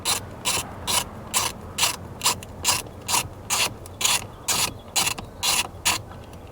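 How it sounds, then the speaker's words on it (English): A hand ratchet with a 5/16 socket clicks in a steady rhythm of about a dozen short bursts. It loosens steering wheel bolts on a 1998-2001 Ford Explorer, close up, with no talking. "I'm going to use this 5/16 socket and go ahead and remove this."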